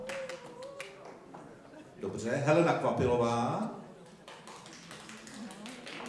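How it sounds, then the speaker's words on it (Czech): A brief burst of audience applause at the Senior of the Year 2018 award ceremony rises for a couple of seconds beneath an announcer reading out names, then fades back under his speech. "klidně tleskejte dál, když tady máte své fankluby"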